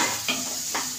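Finely chopped tomatoes softening in a pan with capsicum for tawa masala pav, a steady low sizzle with two short scrapes of a spoon stirring.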